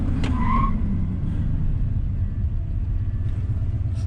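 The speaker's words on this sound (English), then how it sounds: "Anyway, brake test." A 1988 Ford F150 pickup truck braking hard during a brake test, with steady loud road rumble and a brief tyre squeal near the start, no talking.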